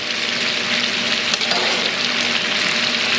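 Pasta hitting a hot skillet with guanciale gives a loud, dense, continuous sizzle and hiss up close, steady throughout with slight swells, no talking.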